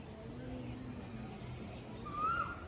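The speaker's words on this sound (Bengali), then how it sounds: "কোকিলটা কিন্তু ডেকেই চলেছে ওই পাতার আড়ালে রয়েছে ও সঙ্গিনীকে ডেকেই যাচ্ছে" A single faint whistled note from an Asian koel, a cuckoo hidden behind leaves calling its mate, comes near the end over a low steady background murmur.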